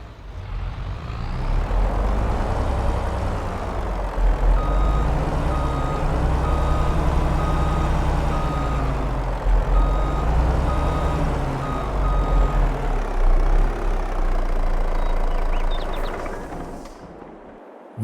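A truck reverses in Farming Simulator 22, its steady engine rumble running continuously with faint repeating reverse beeps over it, loud and close for most of the stretch before cutting off near the end.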